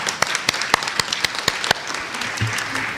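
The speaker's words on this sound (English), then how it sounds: "Can we give our young people a round of applause?" Conference audience applauding young attendees, dense clapping with sharp individual claps standing out, fairly close and sustained across the moment.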